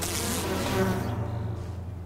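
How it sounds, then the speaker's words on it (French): Swarming bees in the video game Enshrouded give off a steady, close insect buzz that holds evenly for about two seconds with no talk over it. "ça c'est un autre mob. Les abeilles."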